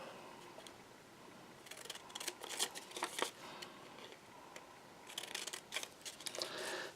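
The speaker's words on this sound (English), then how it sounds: "Take our scissors, cut from each corner to almost the center." Crisp snipping and rustling as scissors cut through paper in several bursts, with quiet pauses between the cuts.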